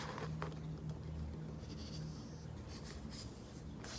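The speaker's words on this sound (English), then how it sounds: "I'm going to take my cup and I'm going to put it in the middle, and I'm going to draw around that" Pencil or marker tracing around a cup placed in the middle of a sheet of paper, a soft continuous scratching drawn out for several seconds over a low steady hum.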